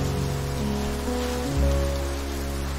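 Rain falls steadily, a continuous even hiss that holds at the same level throughout, with a low steady hum beneath it.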